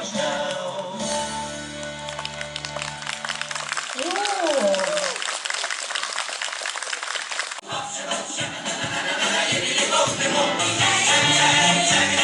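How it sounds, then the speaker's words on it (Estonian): Applause and crowd noise build up at an outdoor midsummer party in a courtyard, rising dense and loud over the final seconds after music and speech. "Suur aplaus."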